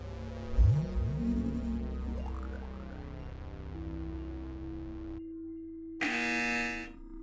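An electronic quiz buzzer sounds with sweeping tones and a sustained drone, ending in a sharp, bright blast that cuts off abruptly.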